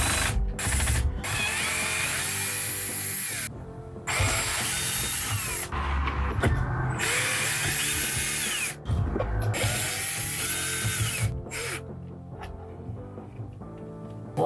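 A power drill runs in repeated bursts, spinning out the bolts securing the factory head unit in a Toyota Hiace dashboard, with whirring spins, clicking clutch ratchets and short pauses between each bolt, close and loud.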